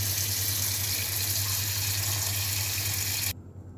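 Steady running water pours from a tap for a few seconds while pomfret fish are washed, a broad rushing hiss that cuts off abruptly near the end.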